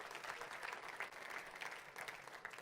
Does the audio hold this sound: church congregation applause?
yes